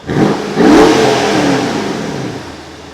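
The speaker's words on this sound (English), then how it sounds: "litre V8 twin turbocharged engine mounted at the front, driving the rear wheel" A Mercedes-Benz CLS63 AMG twin-turbo V8 engine revs hard and loud, a deep roar that swells quickly and then slowly fades over a few seconds.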